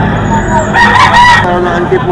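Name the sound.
rooster, White General gamecock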